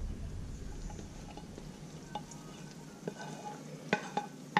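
Mushrooms added to a simmering beef pho broth with meat in the pot, a soft bubbling sizzle with light scraping and a few sharp clinks of a utensil against the pot near the end.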